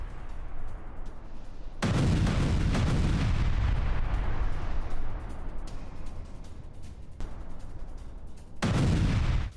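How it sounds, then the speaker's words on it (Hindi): Iranian ballistic missile launched during a war drill, a loud sustained roaring blast that surges abruptly, holds for several seconds, eases off, then swells again near the end with no voices. "वॉर ड्रिल के दौरान मिसाइल दागी गई है"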